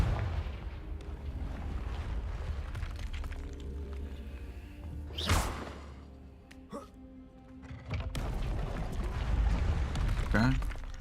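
A single Confringo fire blast spell from Hogwarts Legacy, played on ultra settings, bursts out loud and sharp midway through, set against a steady game soundscape and rumbling background, with a few smaller pops afterward.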